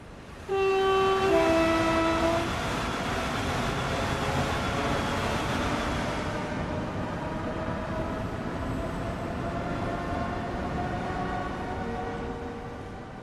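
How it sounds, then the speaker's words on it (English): In Train Sim World 6 on the West Coast Main Line, a Class 390 passes: a sustained horn chord sounds near the start, then the steady roar of the passing train continues loud and unbroken for several seconds. "I have no idea what passed us. It sounded like a 390."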